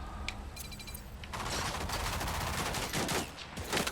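Rapid bursts of automatic gunfire from the Mamba gun in the shooter video game Rogue Company, sustained rattling fire with several sharper shots toward the end, fairly loud and without speech.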